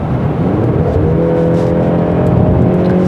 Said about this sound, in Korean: 그리고 엔진 회전수를 높이면은,